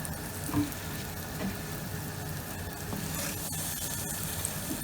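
Syrniki, cottage cheese pancakes made from homemade cottage cheese, fry in a pan with a steady, close sizzling hiss that holds for the whole stretch without pause or talk.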